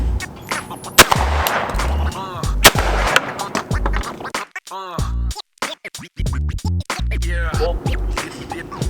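Sharp shotgun blasts from a Benelli Super Black Eagle 2 on a sporting clays course, several loud reports spread unevenly across the stretch with short gaps and scattered outdoor noise between them.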